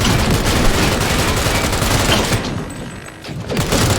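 Dense, loud gunfire bursts during a firefight in the video game Cyberpunk 2077, with a rapid continuous fusillade that briefly thins before resuming.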